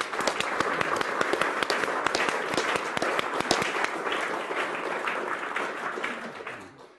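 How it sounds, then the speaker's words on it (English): An audience at an evening lecture gives a dense round of applause that holds steady for several seconds and then tapers off at the end. "So let's give them a round of applause."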